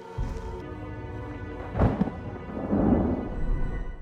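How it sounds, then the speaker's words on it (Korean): A thunderstorm at sea in a film scene, with a sharp thunder crack midway, a rolling rumble afterward, and steady rain and wind noise underneath, with no talking. "거대한 폭풍우가 나타나게 되고"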